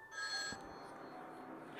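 A telephone ringing in the horror video game Mental Hospital IV, a steady electronic ring that starts, stops briefly and starts again, quiet and without talk.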